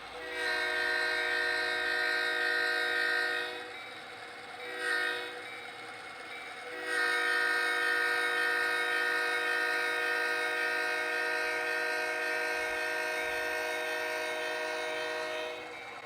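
HO scale model train horn sounding at grade crossings on a 1973 BN layout, with sustained harmonic blasts repeating over about sixteen seconds, briefly broken by short pauses and a quick toot, loud and close.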